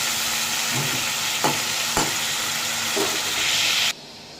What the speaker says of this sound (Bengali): এখন তরকারিটা বসিয়েছি, কপির তরকারিটা মাছ দিয়ে করব